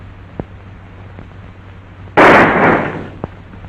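A single loud gunshot cracks out in an old western film, following a quiet stretch of room tone and a few faint ticks, then trails off into a short fading echo.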